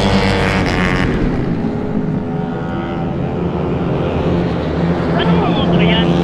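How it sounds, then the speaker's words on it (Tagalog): Yamaha Mio scooters racing on a track make a steady, loud engine drone that holds throughout, with people talking close by over the noise. "Anong mga motor yan? Mio? Lahat? Oo, ayun oh. Mga naka-Mio."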